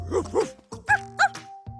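A pair of dogs bark and yip in short, close bursts, about five sharp barks spread unevenly with brief gaps between them.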